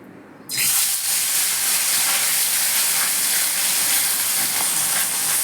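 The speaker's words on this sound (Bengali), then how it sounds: "আমি রান্নাটা করব সর্ষের তেলে এবার আমি মাছগুলিকে ভেজে নেবো" Fish frying in mustard oil in a wok, a loud, continuous hiss and sizzle that starts abruptly half a second in and holds steady without talk.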